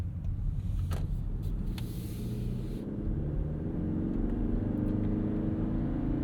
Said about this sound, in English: apart from the screaming four-cylinder, of course